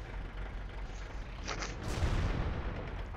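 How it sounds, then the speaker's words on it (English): A tank gun firing in World of Tanks, heard as a heavy booming blast that swells over an already rumbling battle background, loud and close, with no talking. "Now I'm going to be shooting at this KVIS."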